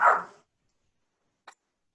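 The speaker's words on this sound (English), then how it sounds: "I have Lola who's barking at me" Lola the dog lets out one short, loud bark close by, followed by silence and a faint, brief yip about a second later.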